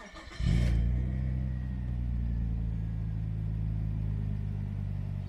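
A 1998 Nissan Skyline R34 25GT fitted with an exhaust silencer cranks briefly and fires, then settles into a steady, deep, muffled idle rumble that carries on evenly and up close.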